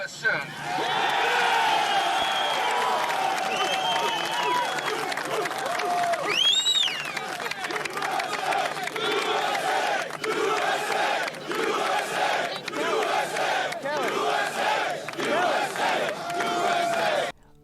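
A large crowd at Ground Zero shouts and cheers loudly and continuously, dense voices and whoops filling the whole stretch with a rising yell partway through.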